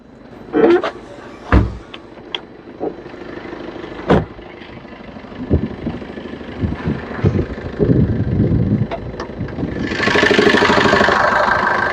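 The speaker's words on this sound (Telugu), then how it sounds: "ఇంజన్ బీటింగ్ కూడా చూడండి, సైలెంట్ ఉంది" Maruti Vitara Brezza ZDi diesel engine idling in a steady low rumble, broken by sharp knocks and thumps, with a louder hissing rush near the end and faint voices nearby.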